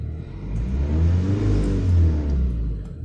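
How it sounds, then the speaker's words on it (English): A common rail diesel engine revs up from idle, a close, loud low rumble swelling smoothly for a couple of seconds and easing back down, with no voices. "So I'm going to rev it up a little bit."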